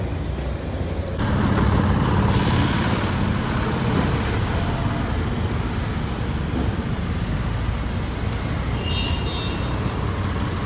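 Dense road traffic on the way to Ozar in Maharashtra rumbles as a continuous low roar of engines and tyres, loud and unbroken, with a faint higher tone near the end and no speech.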